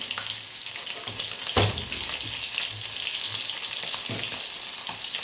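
Spice paste goes into a pan of hot oil left from frying fish for a Bengali fish curry, giving a continuous close sizzle with a brief louder splash and crackle early on.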